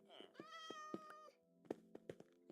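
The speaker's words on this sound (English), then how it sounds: "Oh, our first cat!" A cat in Minecraft Skyblock meows once with a drawn-out, harmonic-rich call, followed by a few soft knocks and clicks close by.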